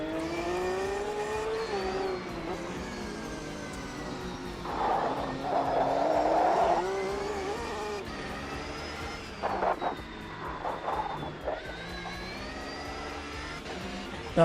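Race car engine in Automobilista 2 during an IMSA-style race with GT3 cars, a steady high revving drone with shifting pitch and brief louder bursts of acceleration, heard continuously without talk.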